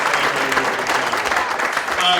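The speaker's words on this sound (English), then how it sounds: "So once again, give you guys a big round of applause." An audience at an arts council event gives a dense, steady round of applause that fills the short moment at even loudness, with a voice faintly mixed in.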